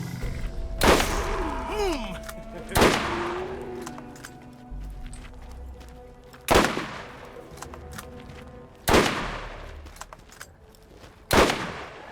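Shots from a slow-firing gun in the video game Borderlands, five loud sharp reports spaced about two seconds apart, each trailing off in a short echo, with faint game sounds in between.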